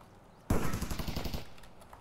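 Rapid automatic gunfire in the video game Escape from Tarkov erupts suddenly after a quiet moment, a loud burst of repeated shots that tapers off over a second or so.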